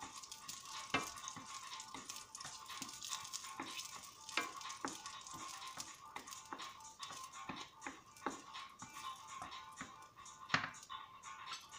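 Three garlic cloves sizzle in hot oil with a steady, soft frying hiss, broken by frequent small pops and crackles, close but quiet, with no talking.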